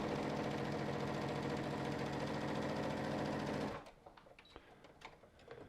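A Brother ST150HDH heavy duty sewing machine stitches a single layer of veg tan leather with a fast, loud, steady mechanical chatter. It stops suddenly, and faint clicks and handling sounds follow.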